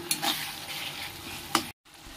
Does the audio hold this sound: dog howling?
no